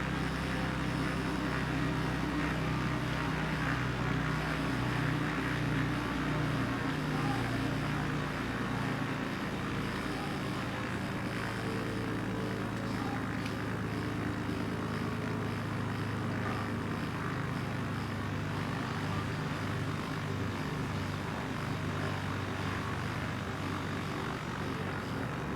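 Steady, loud drone of a propeller aircraft engine from a STOL plane in Microsoft Flight Simulator, a continuous hum running without a break and without any talk.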